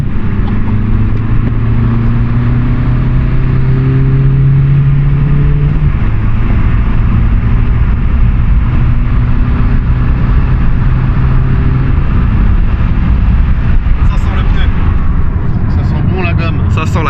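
A well-worn Iveco Daily 1.9 TDI van with 400,000 km pulls away in first gear, its diesel engine droning loud and steady with rising tones, while people talk over it.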